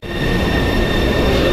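A train in Taiwan rolls steadily and loudly, with a continuous rumbling ride and faint wheel squeal running through the whole short moment.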